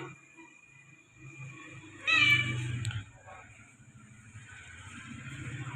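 A trimmed Persian cat, the mother of a litter of kittens, gives one short, close meow over a quiet room with faint background noise.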